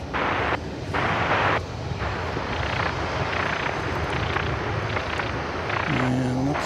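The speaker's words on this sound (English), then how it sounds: "that MD-11 you see turning there, is off" An MD-11 jet taxis and turns at DFW Airport, its steady engine roar rumbling loudly and continuously with slight swells, a brief whine creeping in near the end.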